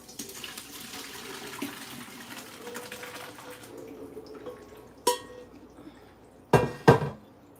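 Curds and whey for homemade one-ingredient cottage cheese pour and splash into a container nearby, a soft continuous wet trickle followed by a few sharp clanks of the pot.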